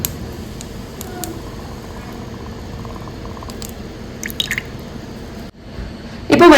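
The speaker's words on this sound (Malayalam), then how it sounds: "ഇനി നമുക്ക് ഇതിലേക്ക് വെളിച്ചെണ്ണ ഒഴിക്കാം." Coconut oil trickles into a small heated pan for a curry, a soft steady dripping and liquid patter close by, ending in a brief louder clatter.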